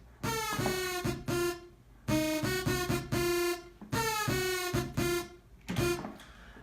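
Plain saw-wave synth in FL Studio with all effects switched off, buzzy and bright, playing short rhythmic stabbing notes in repeating phrases at a moderate level, with no voices.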